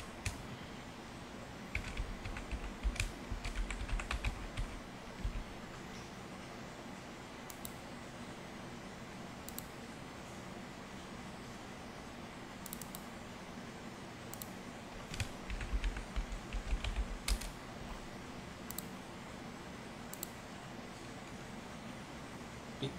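Computer keyboard typing in quiet bursts of rapid keystrokes with pauses between, entering an application name while setting up a .NET Core project, alone over a faint background hiss.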